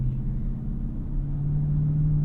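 Steady low road rumble inside the cabin of a 2023 Ford F-150 Raptor R on a rainy night drive, a constant hum with a faint engine drone underneath and no talking.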